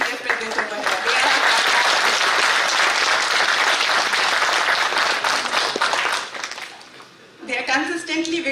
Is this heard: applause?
yes